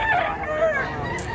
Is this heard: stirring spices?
no